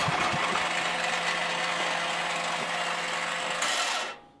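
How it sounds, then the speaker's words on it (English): A dual fuel home generator engine cranks on propane with a steady, loud mechanical whir and drone that runs for about four seconds and then cuts off abruptly. "I'm going to press the start button."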